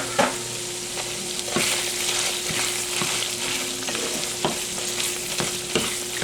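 Ground beef sizzling and frying in a pan for homemade hamburger helper, a steady close crackle with a few sharp scrapes of stirring spaced through it, no talking.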